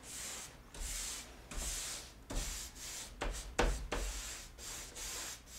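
Clear and dark wax is rubbed onto a mirror frame with a cloth in repeated steady strokes, each a soft, close scrubbing swish, in a quiet room with no talking.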